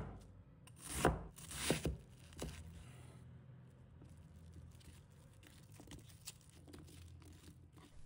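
A knife cuts an onion into small pieces, with a few loud, close chops and rasping strokes on a board in the first couple of seconds, then only faint, scattered taps in a quiet room.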